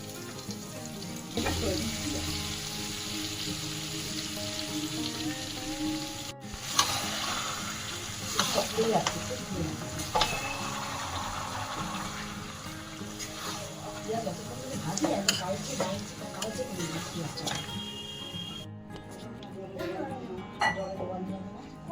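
Marinated chicken with yogurt, oil, meat masala and Kashmiri chili powder fries in a pan, a moderate sizzle with irregular stirring and scraping knocks throughout, and a voice talking faintly at times.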